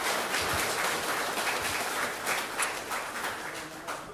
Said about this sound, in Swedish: Du får applåder, vet du, när jag kommer fram till det här